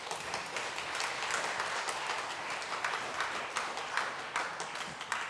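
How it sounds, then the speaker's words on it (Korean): A church congregation at a Sabbath service applauds together in a sustained, dense round of clapping that fills the room at moderate distance, steady throughout with no speech. "여러분, 이분들에게 격려의 박수 한번."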